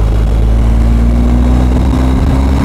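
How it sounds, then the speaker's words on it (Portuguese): A 2021 BMW R 1250 GS motorcycle engine running with a loud, steady, deep rumble, close and continuous without any pause. "A sonoridade da moto, brutal mesmo, adoro este som, parece mesmo aqui uma coisa quase animalesca de tão bruta que é"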